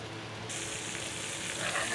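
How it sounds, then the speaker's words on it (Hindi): Steady, crackling sizzle of spices frying in hot oil for a tadka for whole black masoor dal, close and continuous, with a brighter hiss rising partway through. "अब मैं इनको तड़का लगा रही हूँ, तड़का बना लूँ"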